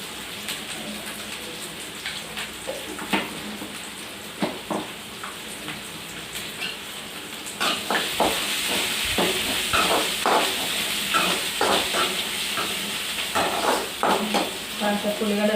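Onions sauté in oil in a pan for Telangana-style chicken gudalu, a soft continuous sizzle with scattered crackles and pops, growing louder partway through as stirring scrapes and clicks join in.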